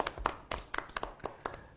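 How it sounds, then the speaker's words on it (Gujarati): Children give a short burst of quiet, uneven hand clapping in a classroom after a game round, with a dozen or so soft claps in quick, scattered rhythm. "Apne નિમા માટે તાળીઓ વગાડશું અને નિમાને અભિનંદન આપશું."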